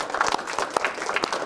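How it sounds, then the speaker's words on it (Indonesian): A game-show studio audience gives brief, scattered applause, with a handful of sharp claps standing out over a thin crowd wash in a short burst. "Kita beri tepuk tangan untuk kita semua"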